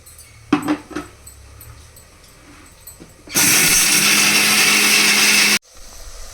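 A kitchen mixer grinder whirs loudly as it grinds raw coconut into a paste, one steady burst of about two seconds that cuts off abruptly, after some quieter kitchen clatter.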